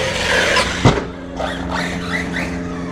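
A Redcat Kaiju RC car runs on its stock tires, its electric motor whining up and down in quick revving sweeps, with a sharp thump near the start as it lands or bumps.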